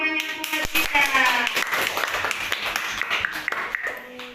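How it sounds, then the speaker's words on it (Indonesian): Classroom students clapping for a group presentation, a dense, fairly loud burst of hand claps that continues steadily throughout, with a voice speaking over the start. "Kalau sudah, beri tepuk tangan yang banyak buat kita."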